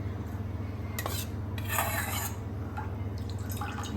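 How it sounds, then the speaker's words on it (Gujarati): Ghee goes into a hot kadai on the stove for mohanthal: metal utensil clinks and scrapes against the pan with a soft liquid drip, all over a steady low hum, no voices. "કઢાઈમાં આપણે આમાંથી અડધું ઘી એડ કરી લઈએ"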